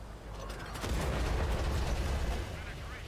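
Artillery shells strike in a tank video game, a loud, rumbling, broadband blast that swells after a short rolling lead-in and then fades slowly.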